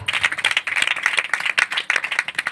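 A church congregation claps hands together at a home praise gathering, a dense, steady patter of many overlapping claps, fairly close and continuous with no talking.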